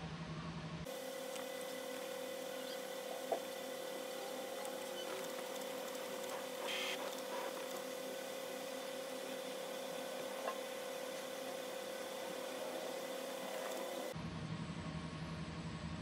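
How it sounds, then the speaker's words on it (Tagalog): A Brother DCP-T710W inkjet printer runs its cleaning cycle, giving a steady mechanical hum with a sustained tone and occasional faint clicks, continuous and fairly quiet throughout with no talking. "Please wait cleaning approximately 6 minutes."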